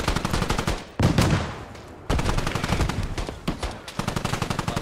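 Rapid automatic gunfire in the military shooter game Squad comes in loud, repeated bursts of sharp cracks with brief gaps between them, close and dominant, with no talking.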